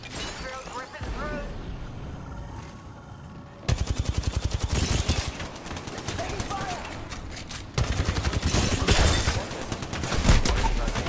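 Rapid bursts of automatic gunfire in the shooter game Apex Legends, loud and close, with dense rattling volleys that come in waves over several seconds and a voice speaking over them.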